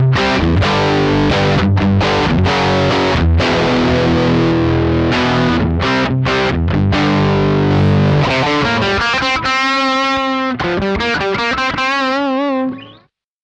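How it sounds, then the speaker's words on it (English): An electric guitar played through a Tech 21 Fly Rig 5 v2 on its plexi distortion with a pre-boost gives a loud, saturated, crunchy tone, with strummed chords and riffs leading into sustained, wavering held notes before cutting off. "if you have it as a pre-boost, which it is now, then it will drive the plexi distortion even more"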